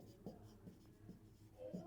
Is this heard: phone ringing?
no